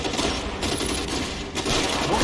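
Gunfire in the video game L.A. Noire, a dense burst of overlapping shots and crackling reports under a noisy background, with a brief lull before the shooting resumes.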